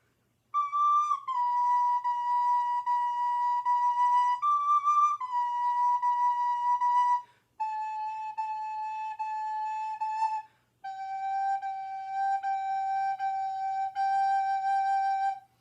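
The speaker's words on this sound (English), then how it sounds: "when you transfer that very gentle whisper tonguing to the recorder" Four sustained recorder notes played with soft, gentle tongued starts, each held for a couple of seconds and stepping downward in pitch, clear and alone.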